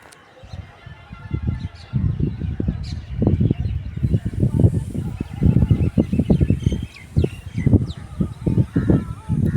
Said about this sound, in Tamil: சாயந்தர டைமில் பார்த்திங்கன்னா காக்கா குருவியெல்லாம் வந்து மரத்தில் போய் அடைஞ்சிருச்சு